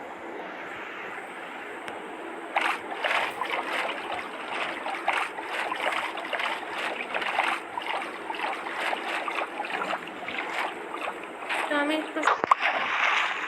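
A boat is rowed across water in the Minecraft video game, giving repeated rhythmic paddle splashes over a steady droning background, while someone talks over much of it.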